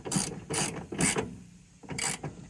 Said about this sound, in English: We're gonna grab our wrench, righty tighty, and we're just gonna tighten this down until it's snug.